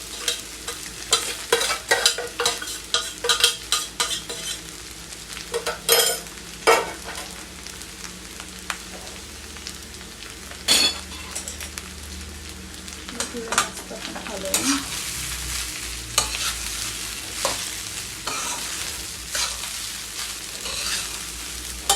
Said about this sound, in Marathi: आणि याला स्लो फ्लेमवरतीच आपण मस्त असं हे करून घेऊया, शिजवून घेऊया.